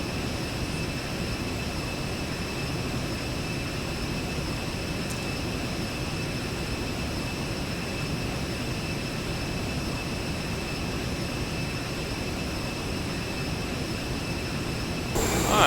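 Aerobask Viperjet jet cruising at 10,000 feet in X-Plane 10, a steady broadband engine and airflow drone with a constant high whine, unchanging throughout and alone without talk.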